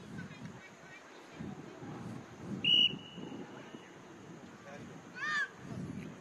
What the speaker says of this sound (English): she'll wait for the referee's whistle